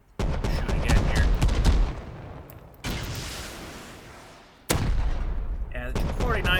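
Loud gunfire from the video game Rust, a dense volley of close shots followed by a rumbling, fading wash, then another abrupt burst with crackling shots toward the end.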